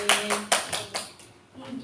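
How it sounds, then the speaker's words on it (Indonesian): A few separate claps in a classroom during a physics microteaching session, a sparse handful of sharp hand claps spaced apart and fading, with a voice briefly heard. "Tepuk tangan untuk Mbak Iza dan Mbak Arifah."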